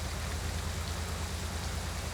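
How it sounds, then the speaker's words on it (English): Steady rain in a flight simulator set in wintry Alaska, a dense even hiss of falling drops with a low rumble underneath, constant and fairly soft. "I can hear the rain."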